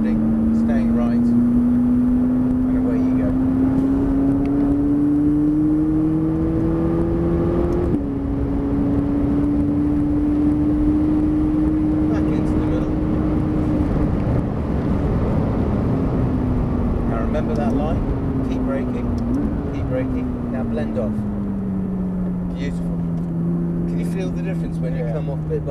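McLaren 570S sports car engine droning steadily as it builds speed on the Thruxton circuit, its pitch climbing then easing and rising again, heard from inside the cabin under continuous instructor talk.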